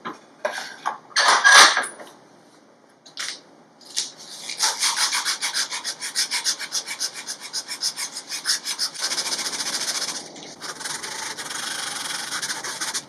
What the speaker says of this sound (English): you can cut into this shoulder with sandpaper